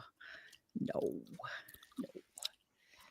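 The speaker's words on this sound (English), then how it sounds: "I'm chewing gum right now." Gum chewing sits close to the mic as quiet wet, squishy smacks in uneven bursts, with faint talking mixed in.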